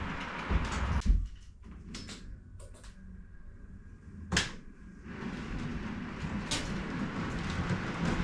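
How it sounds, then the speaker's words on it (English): A model Class 20 locomotive pulling merry-go-round style wagons starts off and gathers speed, with mechanical clunks and a rising rolling whir. The sound is fairly close and there is no talk over it. "So Class 20 is just starting off, coming up at some speed."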